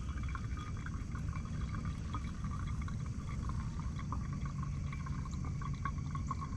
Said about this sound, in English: Then keep pouring on the rest